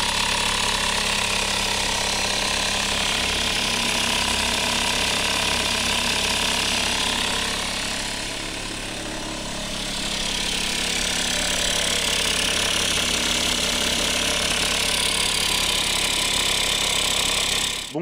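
Honda Vision scooter engine with a worn cylinder and piston runs steadily, a loud, continuous buzzing idle with a rough mechanical rattle, dipping briefly in the middle before settling back.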